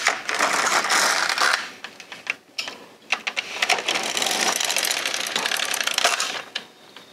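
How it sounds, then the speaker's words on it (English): An LK150 knitting machine knits rows with a busy mechanical clatter. The carriage rattles and clicks in long passes, loud and close, with a brief pause between passes and no speech. "I'm going to knit 2 rows"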